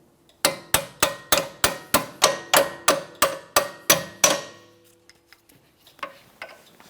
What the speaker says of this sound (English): Let's use a hammer and punch if necessary.